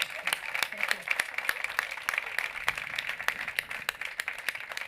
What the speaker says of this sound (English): I would ask everyone a warm applause to these fantastic speakers